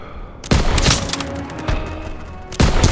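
Bursts of World War II rifle and machine-gun fire in the Call of Duty: WWII video game, with loud, close volleys at the start and again near the end and a rumbling battlefield din in between.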